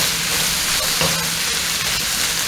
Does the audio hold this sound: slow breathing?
no